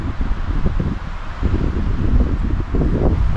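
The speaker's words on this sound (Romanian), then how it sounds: "Uitați ce bate vântul" Wind gusting through a mossy mountain forest on a cold, drizzly day, a steady low roar with buffeting microphone rumble that swells and eases, with no talking.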